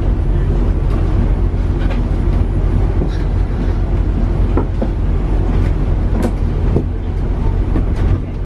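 A London Underground train ride, with a steady, loud rumble and rattle of the carriage filling the whole stretch and a few brief squeals and clanks above it.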